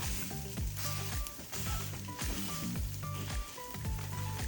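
Meat for smashed breakfast tacos sears meat-side down on a hot griddle, a loud steady sizzle with crackling pops running throughout, with a few scrapes and thumps of a spatula.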